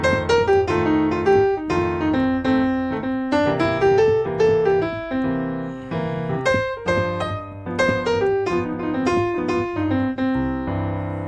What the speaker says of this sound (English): I can switch to the minor pentatonic for the 4 and the 5 chords